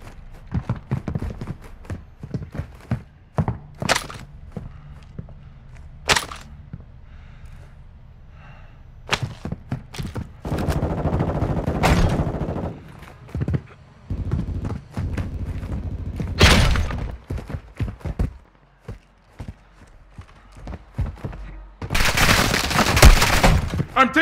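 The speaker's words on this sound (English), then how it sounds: "I'm taking fire!" Gunfire in Warzone 2.0 on PS5, scattered single shots and short bursts with thuds and impacts spread over a long stretch, some sharp and close, others duller, ending in a louder sustained barrage.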